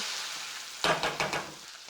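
Chopped cashews and almonds frying lightly in melted ghee for carrot halwa. After a quiet hiss, a few quick stirring scrapes over a crackling sizzle come in short bursts.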